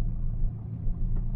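A daily-driver car rolls along, its engine giving a steady, loud low rumble that stays constant throughout the short stretch, heard from inside with no talking.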